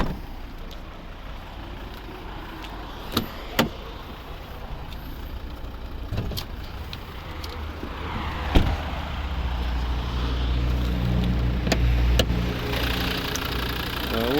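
A 2012 Volvo V60 D3 2.0 five-cylinder diesel engine idles steadily nearby with a low rumble, punctuated by a few sharp clicks and knocks, slightly rising toward the end.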